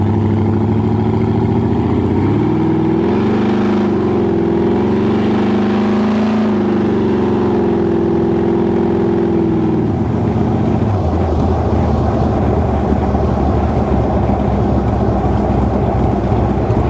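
A fully built T-bucket hot rod with a fault sits at a low idle. Its engine drones loud and close, rising briefly before settling into a rough, steady rumble.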